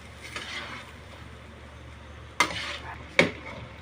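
Shrimp stirred in a pan with tomato paste and oyster sauce: a low, gentle sizzle runs throughout, then two sharp utensil scrapes or knocks against the pan near the end, close by and with no talking.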